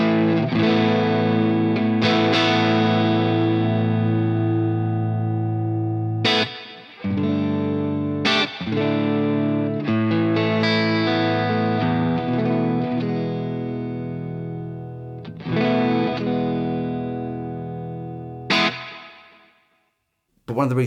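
Distorted electric guitar chords ring out through a small AMS Twister 5 amp, each strum trailing off into a digital reverb tail, with a few abrupt stops between phrases.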